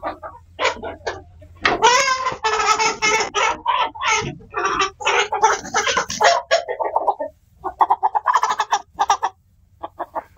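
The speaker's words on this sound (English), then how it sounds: "here's the one rooster that came with them." Hens and a rooster in a flock cluck and squawk loudly and close by, a busy overlapping run of calls with brief pauses between bursts.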